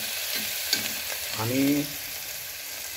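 Mutton masala sautés in a pressure cooker on a village-style goat mutton recipe, with a steady sizzle and a couple of scraping stirs, a short voice briefly heard over the cooking.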